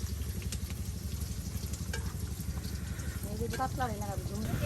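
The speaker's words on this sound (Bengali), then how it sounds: "পেঁয়াজ, গোলমরিচ, জিরা, তেজপাতা সবকিছু একসাথে দিয়া তেলের ভিতরে উলট পালট করা হচ্ছে" Onion, black pepper, cumin and bay leaf sizzle and fry in hot oil while being stirred, a steady crackling hiss under a person talking nearby.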